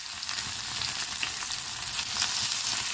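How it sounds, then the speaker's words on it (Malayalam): Small shallots fry in hot oil with a continuous, crackling sizzle heard up close, dense and even throughout with no voices. "എണ്ണ ചൂടായിട്ടുണ്ട്. അതിലേക്ക് ചെറിയുള്ളി ഇട്ട് കൊടുത്തു."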